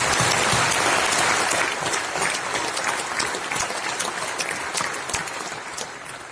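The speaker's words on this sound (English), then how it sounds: "I request all of you to give a very hearty round of applause for the entire" Hearty audience applause at an Aadhaar 2.0 workshop honouring the Aadhaar team, a loud, dense burst of many hands clapping that slowly thins and fades over several seconds.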